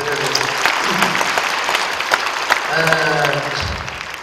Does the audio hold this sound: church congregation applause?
yes